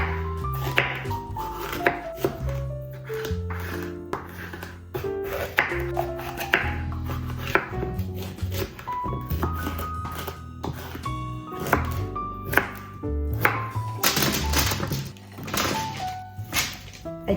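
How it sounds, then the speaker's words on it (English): A knife chops zucchini, bell peppers and broccoli steadily on a cutting board, rapid irregular thunks close up, with background music playing throughout. "we chop all the vegetables"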